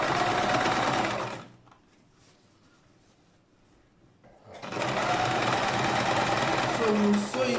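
A sewing machine runs close by, stitching around a handmade hat in two steady bursts separated by a quiet pause of about three seconds.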